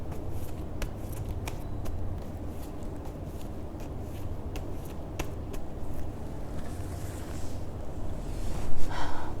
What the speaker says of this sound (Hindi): तो कार्ड शफल करते हैं सेक्टेरियस के लिए।